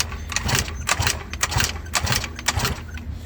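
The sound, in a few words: Beamer Matrix 2 engine running after rebuild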